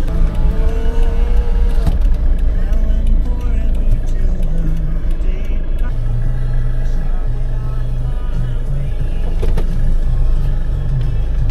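A car drives into a hotel parking area at Subic Bay, its steady low engine rumble running loud and continuous throughout, with people talking over it inside the car.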